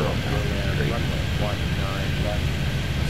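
Airplane engine roar from the Airport Madness 3D video game, a steady loud jet and propeller drone as an aircraft goes around at an airport, continuous throughout under faint background game sounds.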